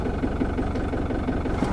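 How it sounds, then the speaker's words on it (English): An old RV engine running on the Canary Islands, a steady low rumble close by with faint vibration and no voices. "The old engine still starts"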